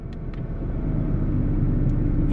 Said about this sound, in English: So you hear the engine change?